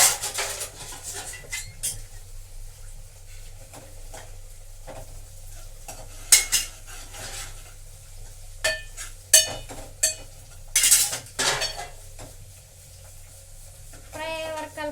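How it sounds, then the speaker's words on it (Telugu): Ginger garlic paste is stirred in a hot pan while it fries, with a steady low sizzle under repeated scraping and clinking of a utensil against the pan, in bursts over a home kitchen background. "ఇప్పుడు అల్లం ఎల్లిగడ్డ పేస్ట్ అయిపోయే వరకు కలపాలా. ఎస్, ఫ్రై అయ్యే వరకు."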